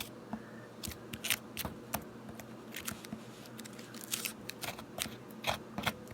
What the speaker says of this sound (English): I'm using a 1/4 inch chisel of Marples that isn't as good as some of my better woodworking chisels, but it's strong,